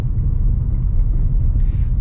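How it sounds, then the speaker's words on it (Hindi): A petrol Maruti Brezza car cruising at low speed and low revs in city traffic, its steady low engine and road rumble filling the cabin, continuous and close with no talking. "कम स्पीड कम आरपीएम पे भी पेट्रोल वाली बहुत भागती है ब्रेजा"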